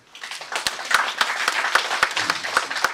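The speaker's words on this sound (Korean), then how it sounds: "자부하시면 박수 한번 보내십시오." A lecture audience applauds at a Korean talk on Confucian values, a steady, dense wash of many hands clapping with sharp individual claps standing out, sustained from start to finish.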